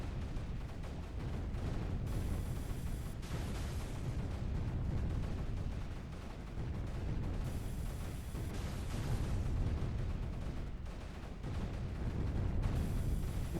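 Mortars fire steadily in the Creeper World 3 strategy game, a dense rumbling roar of booming blasts that runs on without a break, loud throughout and free of talk.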